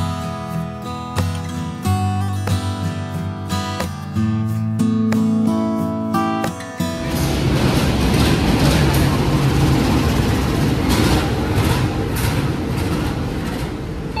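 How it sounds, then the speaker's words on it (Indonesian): Batavia economy train locomotive being shunted at a station on track 4: a steady, loud low rumble of the diesel engine and rolling rail noise. Before it, a stretch of music plays with sharp rhythmic hits. "Nah, ini lokomotifnya kereta api Batavia, teman-teman. Dilangsir ya ke sana."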